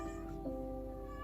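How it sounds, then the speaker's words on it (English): A pet cat named Charlie lets out a single short meow indoors, faint and in the background over a steady low hum. "if you can hear a cat in the background"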